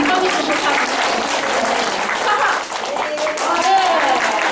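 Audience applause at a gender-equality project results-reporting event, a steady dense wash of clapping filling the hall throughout, with voices mixed in.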